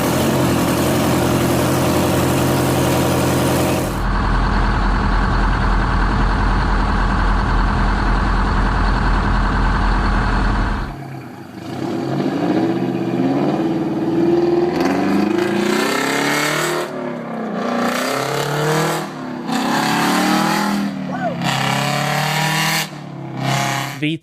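A two-stroke Detroit Diesel engine running, a loud steady drone that shifts to a rougher, pulsing idle with intermittent bursts of revving.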